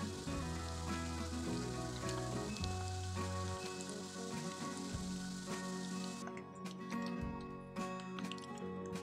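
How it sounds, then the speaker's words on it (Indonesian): Mie pastel pastries fry in hot oil with a steady, soft sizzle that runs through the clip beneath melodic background music. "ini kita goreng lagi pastelnya sampai selesai ya"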